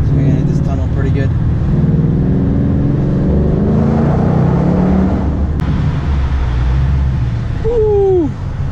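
A 2016 Mustang GT accelerates through a tunnel, its loud engine droning and rising in pitch over a sustained rumble of road noise.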